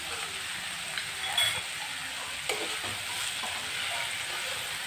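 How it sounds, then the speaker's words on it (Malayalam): Onions and shallots sauté in a pan over medium flame for a Kerala-style potato beef curry, a soft continuous sizzle with a few faint scrapes and clinks. "സവാള ഉള്ളിയൊക്കെ നന്നായി ഒന്ന് വഴറ്റി എടുക്കാം മീഡിയം ഫ്ലെയിമിലിട്ട് വേണം ചെയ്യാൻ"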